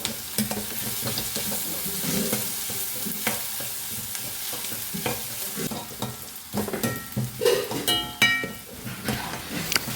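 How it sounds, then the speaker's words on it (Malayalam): Ginger, garlic, onion, green chili and curry leaves are sautéed in a pan for a soybean curry, a constant sizzle under repeated scraping stirs and a few metallic clinks of a spoon against the pan. "ഇഞ്ചി വെളുത്തുള്ളി സവാള പച്ചമുളക് കറിവേപ്പില എല്ലാം ഇട്ടിട്ട് നന്നായിട്ടൊന്ന് വഴറ്റിയെടുക്കാം"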